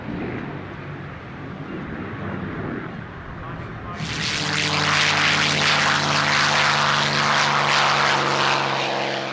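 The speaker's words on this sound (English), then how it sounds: "back on stage now, an absolutely wonderful aircraft, the P-51 Mustang, flown by Peter Teichmann." A P-51 Mustang propeller fighter roars past at an airshow, its engine rising sharply to a loud, steady drone with strong harmonic tones, while an announcer talks throughout.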